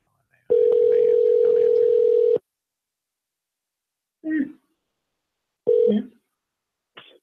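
A ringback tone on a telephone call: one long steady electronic tone of about two seconds, then after a pause a shorter burst of the same tone, with brief voice-like sounds in the gaps.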